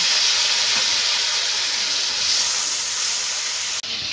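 Steady loud hiss and sizzle of a whole tomato dropped into hot spice paste in a pan, continuous frying sound throughout with no talk.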